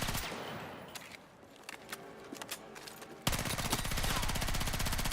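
Rapid automatic gunfire from a video game weapon, a dense continuous burst that jumps suddenly louder partway through and keeps hammering steadily to the end.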